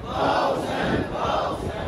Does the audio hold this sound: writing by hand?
no